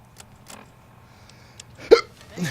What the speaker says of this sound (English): I've come down with a case of the hiccups